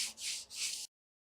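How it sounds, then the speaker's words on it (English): A 220 grit sanding block lightly rubbed over a CNC-machined wooden shelf piece, giving two soft, hissy back-and-forth strokes close to the mic, quiet and brief before stopping. "I'm going to go ahead and just lightly take a 220 grit sanding block after it"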